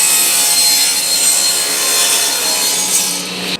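A table saw rips the rough edge off a wooden board in one loud, close, continuous cut, the blade's harsh hiss sustained throughout before trailing off at the end.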